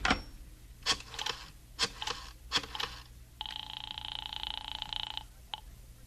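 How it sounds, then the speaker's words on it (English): Radio-drama sound effect of a telephone being picked up, with several sharp clicks and clunks of the handset followed by a steady buzzing line tone that stops abruptly, close and clear with no voices. "I went into the living room and picked up the phone."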